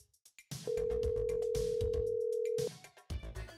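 In VRChat, a single long, steady phone ringing tone sounds for about two seconds, with clicks and game sounds around it.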